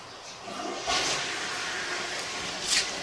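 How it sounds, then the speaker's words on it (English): Toilet flush picked up through a sewer pipe camera in a garage bathroom, a muffled hollow rush of water swelling twice within a few seconds over steady pipe hiss. "we're going to go ahead and flush the toilet and see how fast it dumps into the system"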